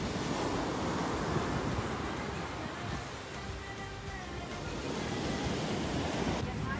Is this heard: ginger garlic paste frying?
no